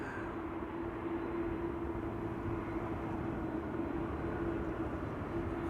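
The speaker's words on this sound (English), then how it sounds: "this one is getting away from us. Singapore Airlines Flight 323 to Singapore." Singapore Airlines flight 323 departs Amsterdam Schiphol Airport, heard as a faint, steady, distant jet roar with a constant humming tone running beneath it and no other sounds.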